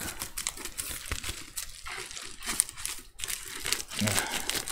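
Close-up crinkling and snipping as dull scissors cut open a subscription box package, with irregular crackles and cuts, and a voice murmuring briefly in the background.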